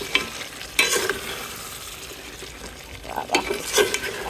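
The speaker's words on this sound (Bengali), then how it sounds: "আলু দিয়ে গোস্তগুলো আরো কষাই নিব।" Duck meat and potatoes being stir-fried in a pan, with soft sizzling under a few clattering stirs of a spoon that come and go.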